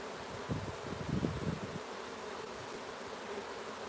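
Honey bees buzz at an open hive being worked with light smoke, a steady low hum throughout with a denser swell of buzzing in the first two seconds, near and alone.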